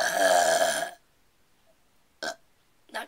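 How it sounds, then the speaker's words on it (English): One long, loud, deliberate burp from a person, then a pause of near silence and two short, quieter gulping bursts at the end. "1 or 2 burps"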